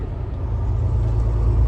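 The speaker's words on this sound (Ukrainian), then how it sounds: "Більше трак не хоче тягнути, е, бо дуже тяжко їхати." Semi truck engine straining as it climbs a hill on an American interstate route, a steady low rumble that swells slightly and holds loud and close throughout, with no talk over it.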